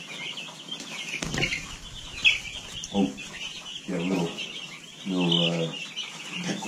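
Meat chickens in a pen make scattered clucks and bursts of wing flapping close by, mixed with a few brief words from a person.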